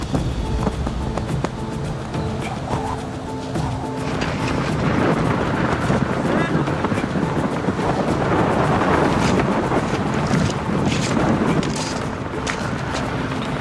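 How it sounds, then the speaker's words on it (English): Wind roars steadily on a volcano's slopes, driving gravel that patters and hisses against a tent, a loud continuous broadband rush with gusty swells and no voices. "You can hear the roar of the wind and the gravel being brought towards you"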